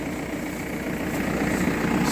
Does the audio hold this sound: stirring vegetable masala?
no